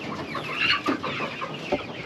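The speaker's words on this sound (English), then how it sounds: "So the chickens were growing rapidly, the Rhode Island Reds" Several Rhode Island Red chickens cluck close by in short, overlapping bursts, a busy and steady chatter of hens in a coop.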